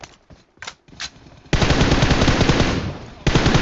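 Gunfire in the PUBG video game: a few scattered single shots, then a long sustained burst of rapid automatic fire, a brief pause and another loud burst, all close and dominant.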